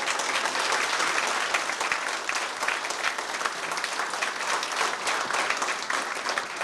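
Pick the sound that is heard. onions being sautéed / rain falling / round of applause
round of applause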